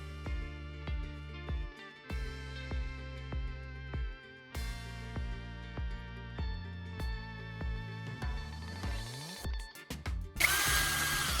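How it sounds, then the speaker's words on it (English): An electric drill spins a carbon rod against a grinding disc in short, repeated bursts, each run starting and winding down with a steady motor whine, ending in a rough, loud grinding rasp. "I'm inserting it into my electric drill."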